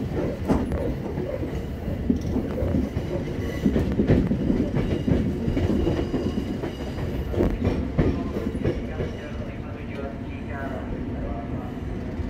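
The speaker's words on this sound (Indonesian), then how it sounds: "Kereta masuk di jalur 5" A commuter train runs along the track at Jatinegara station, a loud continuous rumble with rhythmic wheel clatter and squeal, station announcements faintly audible over the rolling noise.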